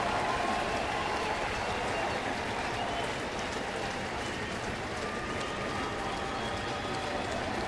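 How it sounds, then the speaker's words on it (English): Crowd of Cardinals fans at a baseball game stand, cheering and applauding in the top of the ninth, a dense continuous roar of clapping and shouts that fills the stadium and holds steady throughout. "Cardinal fans have been wanting to cheer all homestand. On their feet in support."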